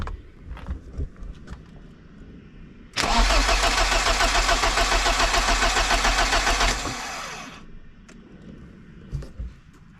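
A BMW E30 car that sat unused for three years cranks and fires up loudly at close range, running steadily for about four seconds before shutting off and leaving quiet background rustling.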